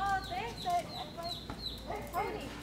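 Chickens cluck and chatter near their feed outdoors, several short rising calls spread through the clip over a steady background.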